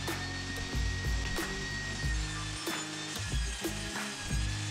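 Power saw cutting the side edges of a wooden cutting board for meat, with repeated bursts of loud buzzing and cutting interrupted by short pauses.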